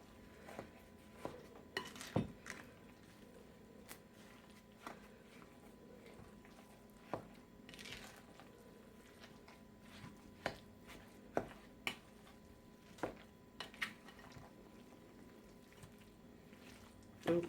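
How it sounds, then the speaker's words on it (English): A spoon works through a raw meatloaf mixture in a bowl, giving scattered soft clinks and wet squishing scrapes at an irregular, unhurried pace, close and fairly quiet with no talking. "I'm going to mix with the spoon just to get it somewhat incorporated"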